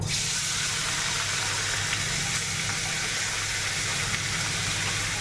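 Small fish sizzling steadily in hot oil with dried chili, a loud continuous hiss and crackle of frying close up that holds evenly throughout, with no voices.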